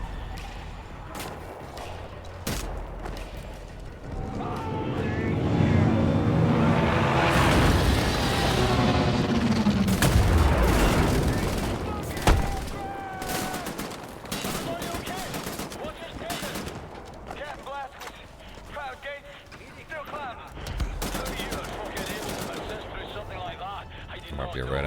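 Sustained covering gunfire in the shooter Wolfenstein, with dense automatic bursts and booming impacts rolling almost continuously for most of the stretch, loud and close, with other game sounds layered around the shooting.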